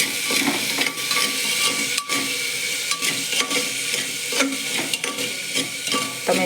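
Potatoes and masala are stirred and scraped in a hot pan, a steady sizzling hiss broken by repeated clinks and scrapes of a utensil against the metal, close and continuous with no talking.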